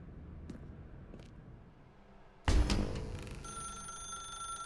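A telephone rings inside a dark room in the video game The Stanley Parable: Ultra Deluxe, its bell tone starting abruptly and loud partway through, sustained after a quiet stretch of faint ambience.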